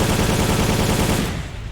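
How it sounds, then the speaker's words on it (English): Sustained rapid automatic gunfire in the video game Soldier of Fortune: Payback, loud and dense bursts rattling continuously before cutting off near the end, with no talking. "somebody's still firing at me from somewhere"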